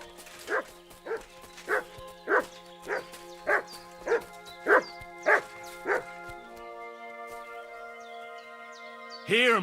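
A dog in Kingdom Come: Deliverance II barks in a steady series of about ten evenly spaced woofs, moderately close, then a short whine or yelp at the end, with no talking over it.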